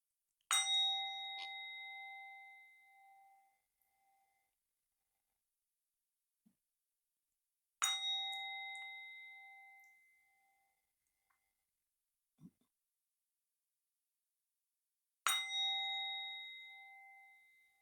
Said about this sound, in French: Trois petits coups de bol tibétaine déjà pour l'alignement.